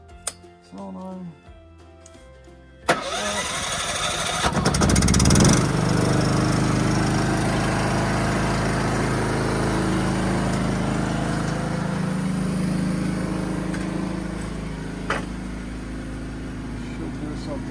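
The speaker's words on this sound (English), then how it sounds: "I'm gonna turn the generator on a minute" A generator engine on an off-grid solar setup cranks and catches, then settles into a steady, loud running drone that continues to the end.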